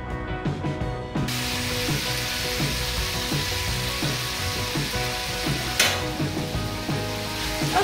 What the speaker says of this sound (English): After that, we will go to fry the pork and vegetable.